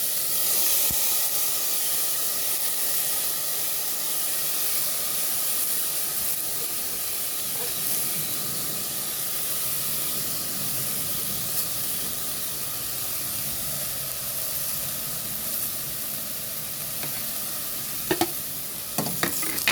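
Rice sautés in olive oil for arroz caldo, giving a steady, even sizzle and hiss with faint stirring scrapes throughout and no speech.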